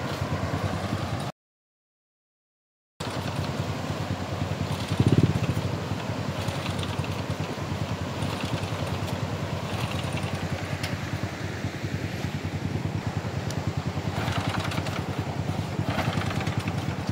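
A teacher's motorcycle engine idling, one that starts but stalls when it moves off, a steady low mechanical putter with a faint rattle, running continuously apart from a brief dropout and a small bump early on.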